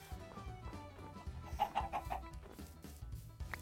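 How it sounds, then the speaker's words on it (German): Chickens in the Minecraft video game cluck in a quick run of short, bright calls amid soft background game sounds, with no voices. "Oh, so viele Hühner."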